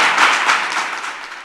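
Audience at a televised evening news event in Benin bursts into loud, dense clapping, a brief close wash of hand claps that tapers off slightly over a second and a half.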